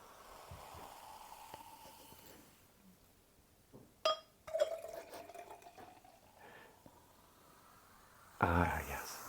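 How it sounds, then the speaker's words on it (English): Sparkling brut rosé is poured to refill glasses, with a few short liquid splashes and glugs in a quiet room, broken up by brief bumps and a louder clink near the end. "We are refilled on our brut rosé now."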